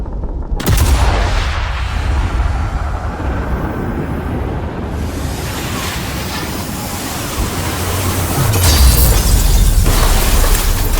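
Battle sounds from the video game Sniper Elite 5: a sudden loud blast opens a dense, continuous roar of gunfire and explosions that stays heavy throughout and swells again toward the end.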